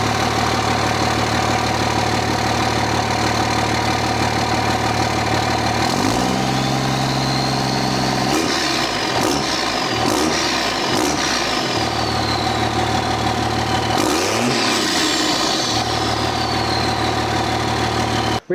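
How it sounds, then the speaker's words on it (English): A truck with no exhaust tip fitted idles with a steady deep rumble, then is revved several times in sharp rising and falling pulls before settling back to idle, loud and close. "we're going to get a baseline of the truck with no exhaust tip on it"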